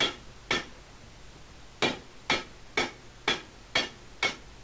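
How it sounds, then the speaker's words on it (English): Sharp metallic hammer strikes, seven in all, peen a rivet on a Land Rover leaf spring in a fairly steady rhythm after an opening pause, close and clear with a quiet background. "And then you whip the hammer over."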